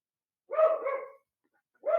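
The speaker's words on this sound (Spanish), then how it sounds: "ladrando mucho por acá" A dog barks a few times off to the side in an indoor setting, a close pair of yelping barks followed by another after a short pause, with no talk over them.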